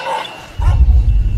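A drug detection dog at a Colombian airport gives a close, loud bark, then a brief yelping follow-up, all within a second or so.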